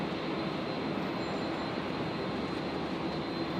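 A departing airliner rolls down runway 01 left at Brisbane International Airport, its jet engines producing a steady, loud broadband roar that holds constant without any voices over it.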